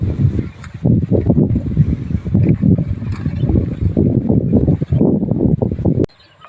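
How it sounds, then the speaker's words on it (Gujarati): Strong wind buffets the microphone out in an open field of jowar where cattle graze in the evening, a loud, continuous, gusty rumble that cuts off abruptly near the end. "પવન પણ બહુ છે"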